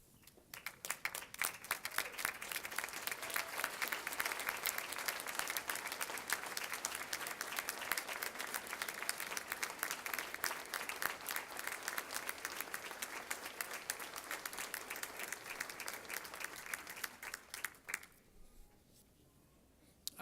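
Graduates applauding their families at a university commencement ceremony, a large crowd clapping loudly and steadily for about seventeen seconds, dense rapid hand claps that then taper off abruptly into quiet room tone.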